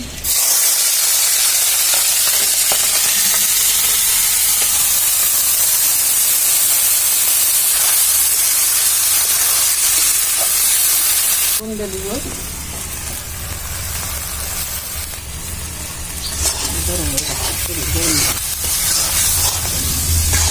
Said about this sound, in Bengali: তো চাল আর ডাল সুন্দরভাবে ভেজে নিব।